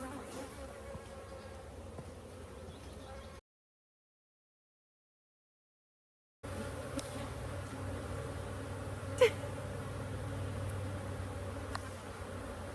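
Honey bees buzz steadily around an open hive during an outdoor inspection, a dense close drone broken by a few seconds of silence and by occasional louder passes of single bees near the microphone.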